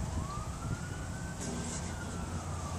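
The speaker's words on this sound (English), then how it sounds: "We got sirens." A siren wails faintly in the distance, its tone sliding slowly, under a steady wash of background noise and traffic rumble.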